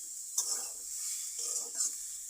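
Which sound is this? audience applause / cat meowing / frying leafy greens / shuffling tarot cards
frying leafy greens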